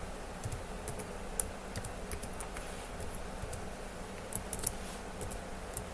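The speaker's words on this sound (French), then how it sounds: "Donc je tape mon mot de passe." Keys click in scattered, uneven taps on a computer keyboard as a password is entered, light and close, with a few sharper strikes over a faint background hiss.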